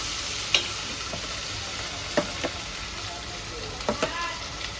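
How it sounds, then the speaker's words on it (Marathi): Mutton frying in oil with masala in a Khandeshi-style curry, a steady sizzle with a few sharp scraping stirs of a spoon against the pan, close and moderately loud, no talking. "मटणामध्ये तेल टाकून झालं आहे"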